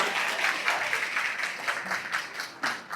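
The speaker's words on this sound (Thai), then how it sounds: "ขอเสียงปรบมือต้อนรับคุณ ยศพัฒน์ ซื่อจงพัฒน์หรือสอจอตู้ครับ" An audience claps to welcome a candidate, Yotsaphat Suechongphat, at a Move Forward Party launch event for provincial council posts, with sustained applause and some sharper individual claps near the end.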